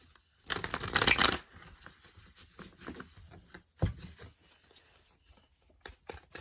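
Tarot cards being shuffled in quick riffling bursts, loudest near the start, then softer intermittent card shuffling and handling sounds, close to the microphone.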